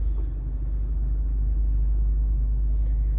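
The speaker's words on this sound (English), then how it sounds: "Now I'm just driving back and forth in this fucking shitty ass traffic." Car interior in heavy stop-and-go traffic, with a steady low engine and road rumble filling the cabin continuously and no other sounds standing out.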